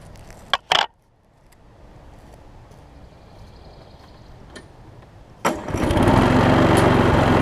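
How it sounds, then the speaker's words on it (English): A Toro Personal Pace lawn mower with a slightly bent shaft: a few sharp clicks and a low idle, then the engine surges up and runs loud and steady once the blade engages. "Let me show y'all that it runs and that the blade engages and everything."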